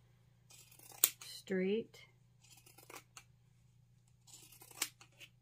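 Scissors snip through a small piece of fabric for a no-sew garden gnome's pocket, a few short crisp cuts up close, with someone talking quietly around them.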